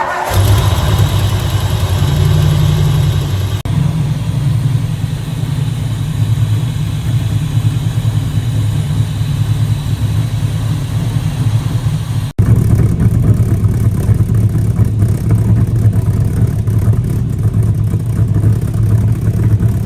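A small engine runs steadily after being refuelled, a loud, close, continuous mid-pitched drone with a slight uneven flutter and a brief hitch partway through, heard alone without any talk.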